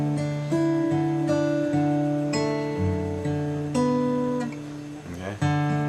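An acoustic guitar plays the intro chords to "Don't Worry Baby", with thumb-fretted bass notes under plucked, ringing chord tones. The phrases are steady and close, and a brief string scrape comes near the end.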